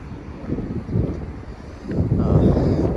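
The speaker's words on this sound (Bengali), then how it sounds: "প্রচুর বাতাস দিতেছে" Strong wind on a summer morning in a Romanian city, a loud steady rumble buffeting the microphone, with gusts swelling and easing throughout.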